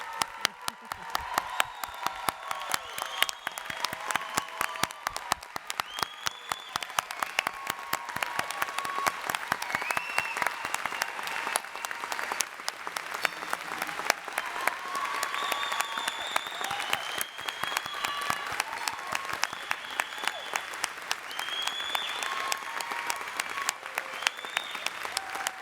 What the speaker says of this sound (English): Let's give all, and I mean all, of our graduates a warm round of applause